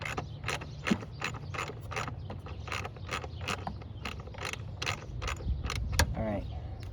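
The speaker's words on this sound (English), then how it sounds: "You can reach behind here and tighten these down." A ratchet clicks in steady rapid strokes while tightening bolts on a 2001–04 Kia Rio fuel and brake line, close and fairly loud, with short pauses between runs of clicks.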